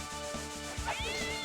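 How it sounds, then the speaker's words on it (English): A cat meows in the video game Castlevania: Dawn of Sorrow, a short rising electronic yowl over a rhythmic tapping game loop, heard close with no talk. "Oh, that's a cat."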